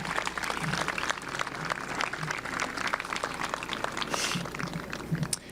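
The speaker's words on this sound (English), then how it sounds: "Let's give them a round of applause." A high school commencement crowd applauds teachers and support staff with a dense, continuous patter of many hands clapping at moderate volume, holding steady for several seconds.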